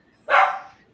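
A single sharp dog bark comes from indoors, moderately close, then quickly fades into quiet.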